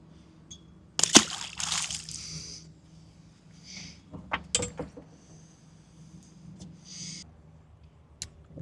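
A released jack, about 12 inches fork length, splashes back into the water with a few close, sharp splashes and sloshes. Quieter water movement and faint handling noises follow.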